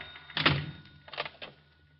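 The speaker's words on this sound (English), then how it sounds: "Close that door." A door shuts with a solid thump in a 1950 NBC radio crime drama set at a newspaper city desk, followed by a softer second knock and rattle a moment later, close and fairly loud.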